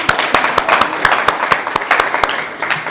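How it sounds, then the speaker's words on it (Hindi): Audience applause at a Hindi-language event on body donation, heard as a steady wash of clapping with sharp individual claps standing out, continuous for a few seconds at moderate loudness. "सबसे पहले उस व्यक्ति के लिए जोरदार तालियां बजाई जाए"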